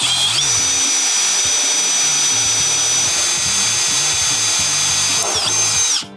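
A power drill with a small 1/8 inch bit drills a pilot hole for mounting a bolt-on wing on an XL Crazy Cart. The motor whine is loud and continuous for about six seconds, then drops off sharply as the trigger is released.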